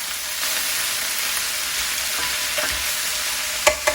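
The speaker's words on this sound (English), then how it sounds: "So our cabbage has been cooking on the stove for a total of about 5-6 minutes now." Cabbage braising on the stove in a pan, a dense continuous frying hiss up close, with a couple of light utensil clicks near the end and no talking.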